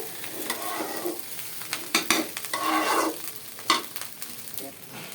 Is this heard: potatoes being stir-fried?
yes